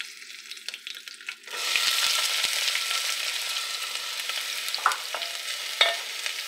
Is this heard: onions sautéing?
yes